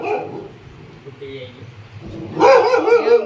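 A dog barks in a village setting, with a quieter stretch giving way to a loud, close burst of barking near the end while a person talks nearby.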